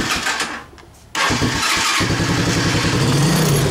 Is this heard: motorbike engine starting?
yes